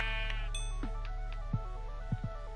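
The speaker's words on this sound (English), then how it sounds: "And there's a damn sheep." Blocky Minecraft sheep on PS4 bleat in several short, wavering calls spaced apart, heard against a steady tonal game background with no speech.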